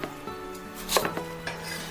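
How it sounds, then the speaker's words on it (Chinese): Kitchen knife chopping radish into small cubes on a board, a few sharp, close knocks spaced irregularly over a quiet background. "然后把它切成四方的长条，最后呢切成小块的萝卜丁来使用"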